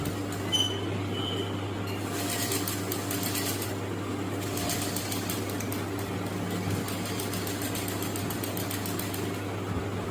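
A sewing machine runs continuously with a steady mechanical hum and rapid needle rattle, moderately loud and close, with no pauses.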